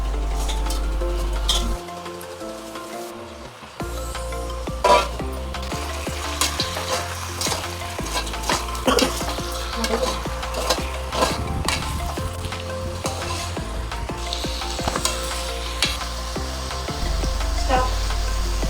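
Country chicken pieces tumble into a pan of browned onions, setting off a loud, dense sizzle with clattering spatula stirs and scraping against the pan throughout, a brief quiet gap near the start, no talking.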